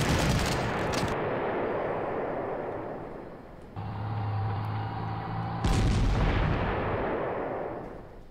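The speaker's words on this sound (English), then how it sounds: "So maybe an airstrike will be the solution for this problem." Heavy airstrike explosions and artillery booms from the World War II strategy game Panzer Corps, set at the Battle of the Seelow Heights, roll continuously and loudly for several seconds, with a low droning hum in the middle.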